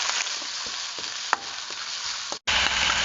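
Garlic and onion fry in a hot pan with a steady broadband sizzle, broken by a few soft clicks of stirring and a brief dip to near silence before the frying resumes.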